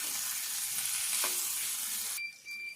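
Curry sizzles loudly in a pan while being stirred after coriander leaves go in, a dense close hiss with a brief scrape midway, then cutting off abruptly to a much quieter tail.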